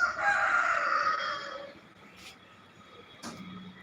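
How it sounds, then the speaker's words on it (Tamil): A rooster crows loudly nearby, one long drawn-out call that fades, followed by a couple of faint, brief sounds. "டாம் சேவல் சத்தம் போடுதே."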